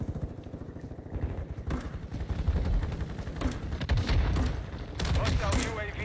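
Rapid gunfire from a military shooter video game cracks in dense bursts against a busy battle background, with other shots and booms layered under radio-style voices.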